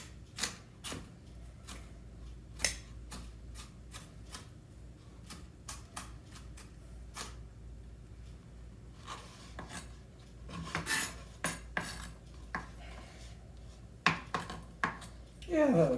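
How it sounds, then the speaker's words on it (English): A knife chops aromatics on a cutting board for a chicken dinner in a series of crisp, irregular taps and scraping rasps. The strokes come close and fairly loud, bunched in quick bursts with short pauses, and no one talks. "let's chop one or two more times in a few different directions,"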